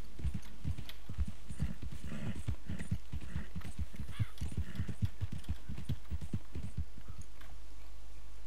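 A Mustang's hooves clip-clop steadily in Red Dead Online, a close, even trotting rhythm that carries on throughout over a faint low hum.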